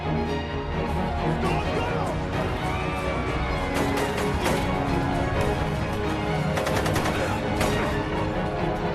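Dense, continuous gunfire crackles through a battle scene from a war film, rapid bursts of shots over a loud, busy mix of crashes and commotion, with scattered clusters of sharper reports throughout.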